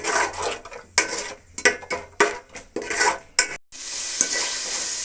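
A spoon scrapes and clanks against a pan while green chili paste sizzles in hot oil for chicken dum biryani, with irregular stirring strokes over a steady frying hiss.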